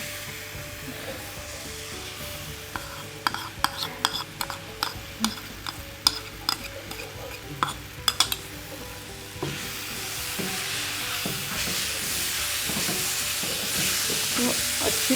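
A spoon scrapes and stirs roasted semolina mixed with ground dates in a pan, giving a run of crisp rhythmic strokes that gives way to a softer, continuous sizzling shuffle near the end.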